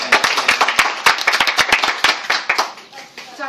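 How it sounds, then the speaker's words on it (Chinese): A small audience claps for a speaker, producing quick, uneven, close hand claps that build briefly and then thin out toward the end. "那我们就用最热烈的掌声"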